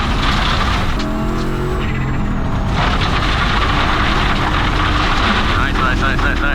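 A light, older rally car drives hard on a stage, its loud engine roaring and shifting continuously, with wind and road noise throughout and people talking over it.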